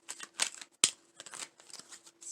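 Tarot cards being shuffled by hand in quick papery bursts and riffles, with one sharp snap near the middle, close and fairly quiet, no talking.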